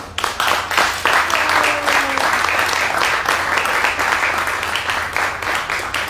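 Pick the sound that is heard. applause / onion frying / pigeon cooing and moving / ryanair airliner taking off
applause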